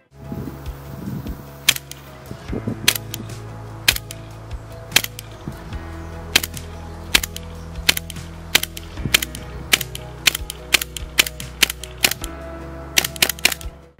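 Airsoft Luger P08 replica by WE, trench version, firing 0.25 g BBs: a string of sharp, close clicks and snaps at an uneven pace with metallic mechanical clatter, over a low steady hum.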